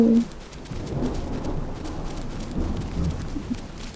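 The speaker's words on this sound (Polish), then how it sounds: "pada deszcz?" Steady rainfall in the video game Dragon Nest, an even, moderate hiss of falling drops with a soft rumble beneath, continuous throughout with no voices.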